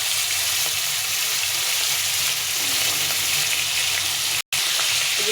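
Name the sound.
fish heads frying in a little oil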